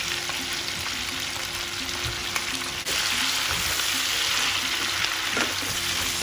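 Loud, continuous sizzling of shrimp and cauliflower frying in butter with garlic in a pan, with occasional stirring scrapes, close and steady throughout without speech.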